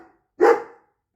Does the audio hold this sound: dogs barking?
yes